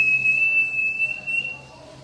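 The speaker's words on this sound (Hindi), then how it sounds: "हर घर से ये सीटी बजती है।" A household whistle blows during the Eid al-Adha (Qurbani) season, one steady, shrill, sustained tone that fades away toward the end.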